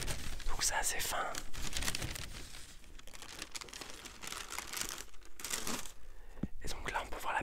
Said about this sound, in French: Donc là il y a du papier de soie pour protéger la paire de baskets.